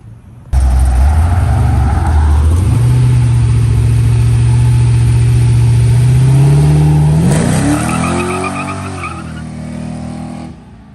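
A truck, likely a Chevrolet Camaro ZL1-class powerplant, revs hard at a car meet, its loud engine note rising and sustaining before a sharp shift and fading pull away, with no talk over it.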